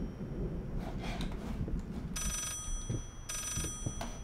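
A telephone rings in the horror video game Layers of Fear, two bright, buzzing ring bursts sounding over a murky, rumbling ambient background.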